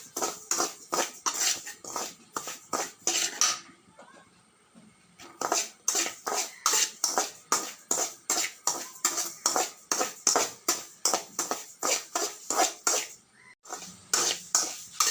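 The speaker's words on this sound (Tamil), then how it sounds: "கடாய் வச்சு கடாய் காஞ்சதும் இந்த 1 கப்பு மாவை தட்டி நல்லா வறுக்கணும்" Semolina is dry-roasted in a hot kadai, a metal spoon scraping and tapping the pan in quick rhythmic strokes, close and crisp, with a short pause partway through.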